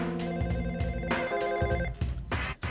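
A telephone rings in repeated short electronic bursts over a musical background, the rings steady and moderately loud with no talking.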